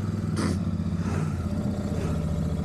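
A Royal Enfield Himalayan 452 motorcycle runs with a steady low engine and exhaust drone, loud and constant, with a brief clattering burst early on.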